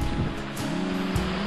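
Water rushes from a waterfall on a farm in Formoso, Goiás, a loud, steady broadband roar close by with no pauses.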